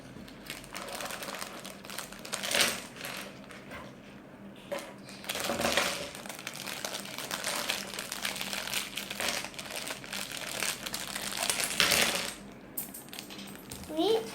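Plastic packaging from a City Engineer 8-in-1 building block toy set being torn open and crinkled, a steady close rustling and crackling with several louder tearing bursts, continuing alone without talk.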